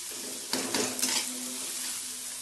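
Cumin seeds hit hot oil with sliced onions browning in it, giving a steady close sizzle with a sharper burst of crackle and a few clinks of a utensil against the pan partway through, no voices.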